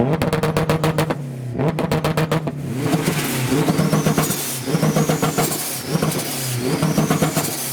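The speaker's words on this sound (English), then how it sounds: "we've got some more sounds from an EP3. It sounds boosted too." A boosted Honda Civic EP3's loud exhaust revs repeatedly in sharp bursts at a large UK JDM car show, with popping, rasping pulses and a rising whine between throttle blips.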